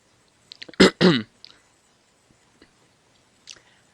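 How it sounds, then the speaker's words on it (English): A person clears their throat in two rough bursts, followed by a few faint mouth clicks and small noises in the quiet afterward. "let me just clear my throat"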